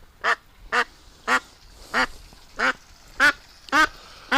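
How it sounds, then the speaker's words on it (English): A farm duck with a bad eye quacks seven times in a steady, evenly spaced series, loud and close, with nothing else audible. "Poor bubble-eyed duck."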